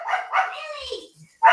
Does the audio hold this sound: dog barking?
yes